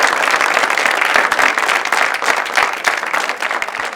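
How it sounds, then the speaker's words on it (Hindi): A studio audience applauds Mohammad Ali Shehki with dense, steady clapping that stays loud for the whole stretch, with only a faint voice underneath. "पहले तो तालियां मोहम्मद अली शेखी साहब के लिए"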